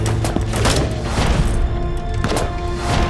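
Explosion blasts on a battlefield, heavy booms and crashing thuds rolling through dense, loud rumbling that fills the whole stretch without letup.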